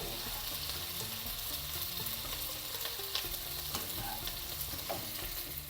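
Okra curry with curry leaves fries in a pan with a steady, even sizzle and occasional faint stirring scrapes throughout.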